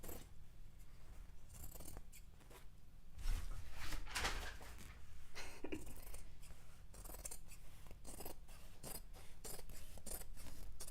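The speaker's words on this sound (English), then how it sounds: "We're going to follow that line and cut all the way up to our neckline." Scissors snip through fabric along a fold line up to the neckline while a Jedi robe is being made, giving repeated crisp, close cutting strokes in a steady irregular rhythm in a cluttered workshop.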